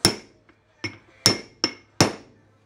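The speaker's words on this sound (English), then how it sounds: "I'm thinking maybe I'll tap it with a hammer and see if we where we go" Hammer tapping a kingpin bolt on a Datsun truck during a kingpin rebuild, five sharp metallic strikes at irregular intervals, close and clear, with no talking.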